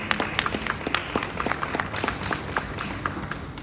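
Audience applause at a talk on disability issues: a crowd of scattered claps patters steadily throughout at moderate loudness, with no voice over it.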